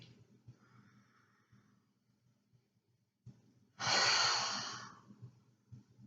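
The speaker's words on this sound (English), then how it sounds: "We're going to take 3 deep inhales and 3 deep exhales." A slow, deep yoga breath fills the quiet: a soft inhale, then a loud, airy exhale with a sigh-like rush that swells and fades, alone and close.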